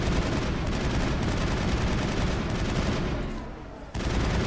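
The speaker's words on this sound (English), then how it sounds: "Oh, an assault rifle." Assault rifle fire in the video game Mass Effect: a continuous loud, dense barrage that thins out briefly near the end before picking up again.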